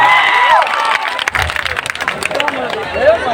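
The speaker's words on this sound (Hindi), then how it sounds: "इस बच्ची के लिए जोरदार ताली बजाइए।" Audience applause and cheering for a young girl on stage at a live Bhojpuri music show, a steady crowd roar with clapping and babble throughout.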